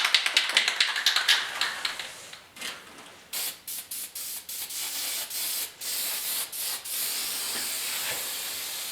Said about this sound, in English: The spray bomb is a lot nicer to use than you know, brushing it on